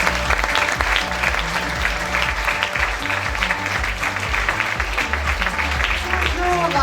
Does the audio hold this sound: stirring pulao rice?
no